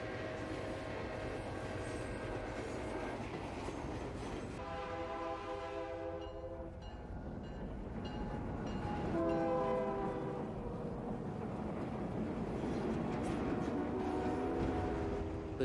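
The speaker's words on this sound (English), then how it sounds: "The two diesels rumble under the large truss bridge spanning Prestonville Yard" Two diesel locomotives rumble steadily through Prestonville Yard under a large truss bridge in the Run 8 train simulator, a continuous low drone with horn-like tonal blasts rising midway, loud and close with no talking.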